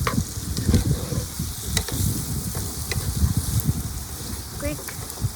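Butter sizzles in a pan for shrimp pasta while cooking outdoors on a windy day, a continuous close hiss broken by the clatter of stirring and small crackles.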